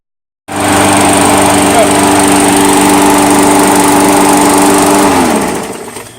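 A small lawn mower with a Briggs & Stratton engine starts abruptly and runs loud and steady at close range for several seconds, then begins to wind down.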